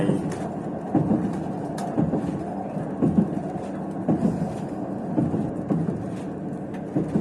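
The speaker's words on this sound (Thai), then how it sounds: "เราก็กำลังอยู่บนรถไฟ" Riding a train through Scotland: a loud, steady interior rumble with low mechanical drone and regular soft knocks from the wheels on the rails, continuous and close, with no speech.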